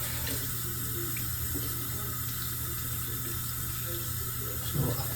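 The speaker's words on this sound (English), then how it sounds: "I'll rinse my brush out." Tap water runs steadily into a sink while a shaving brush is rinsed under it, a continuous close hissing splash with a brief gurgle near the end.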